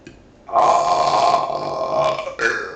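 A long, loud burp rumbles out close up, sustained for about two seconds, then a short second burp follows.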